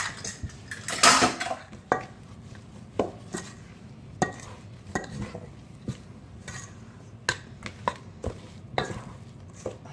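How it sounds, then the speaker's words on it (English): Oatmeal raisin cookie dough stirred by hand in a bowl, the spoon making irregular scraping knocks and clinks against the dish, fairly quiet and close with no talking. "I'm going to stir this."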